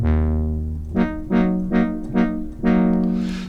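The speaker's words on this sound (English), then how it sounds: "I've got a bit of a brass sound going on." A brass patch played on a Korg Trident MkIII synthesizer, loud and alone: one long sustained chord, then a rhythmic run of short stabbed chords ending in a held note.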